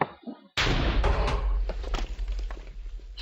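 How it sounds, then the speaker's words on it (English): The spider gun in the Minecraft Mob Guns Mod fires in one sudden loud burst after a short quiet moment, followed by a rumbling, crackling tail of impact sounds that slowly fades. "the next gun on our list is the spider gun"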